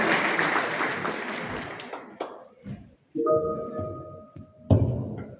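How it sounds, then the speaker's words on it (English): Audience applause for a teacher at a Kenyan student space event, a burst of clapping that fades over about two seconds, then sparse thumps, a sustained tone and a brief final clatter. "A round of applause for our teacher who's made this possible."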